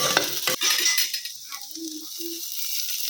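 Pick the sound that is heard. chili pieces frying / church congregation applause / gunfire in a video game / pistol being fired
chili pieces frying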